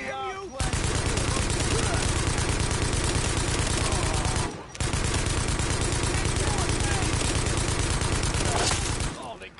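Sustained automatic gunfire in The Division, a dense, loud rattling fusillade that runs almost unbroken for several seconds, stops briefly, then resumes, with faint voices buried beneath.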